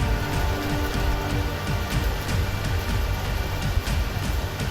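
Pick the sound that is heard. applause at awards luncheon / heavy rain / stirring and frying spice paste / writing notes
heavy rain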